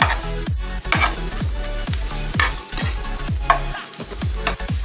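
Turmeric and black pepper powder being stirred into a hot frying pan: steady rhythmic scraping strokes of a spoon against the pan over a continuous sizzle, with no talking.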